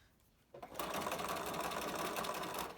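A sewing machine starts up after a quiet moment and stitches steadily around the edge of a fabric face mask, a close, even mechanical whir running to the end.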